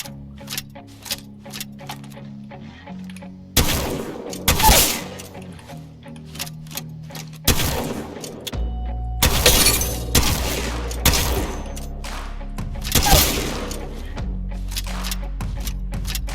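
Shotgun blasts in the Apex Legends video game: several loud, sharp broadband bursts in irregular clusters over a steady game-sound background, with no speech.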